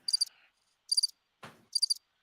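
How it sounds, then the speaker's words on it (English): Cricket chirping sound effect: three short bursts of rapid high chirps separated by pauses, clear and close, with one brief low rustling thump between them and no talk. "Crickets. That's what it sounds like."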